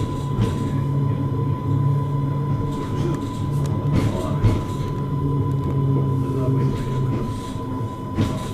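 Steam and battery powered train accelerating, a steady low rumble with droning motor tones and a constant whine, heavy rolling noise from inside the carriage, rising slightly with faint talk in the background.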